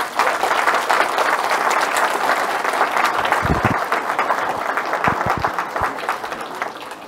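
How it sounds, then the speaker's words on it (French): A room of townspeople applauds the gendarmes at a 2024 New Year's greetings ceremony in Saint-Just, with steady, dense clapping that carries evenly throughout. "Merci les gendarmes, je vous demande de vous applaudir."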